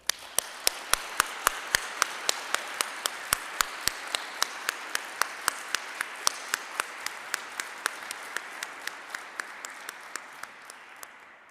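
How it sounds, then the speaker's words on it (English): Audience applause at a ribbon cutting for a facility opening, a steady wash of clapping with several sharp, regular claps standing out near the mic, slowly thinning toward the end. "So again, a round of applause for the Larsons"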